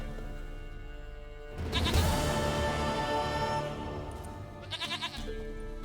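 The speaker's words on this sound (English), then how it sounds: "sweetest goat" A goat in The Witcher 3: Wild Hunt bleats in a long, wavering cry over faint game ambience, followed by a shorter bleat near the end.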